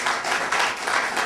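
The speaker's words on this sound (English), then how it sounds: "So y'all give Griff a round of applause." A short, loud burst of crowd clapping fills about a second, dense and close, with no voices heard.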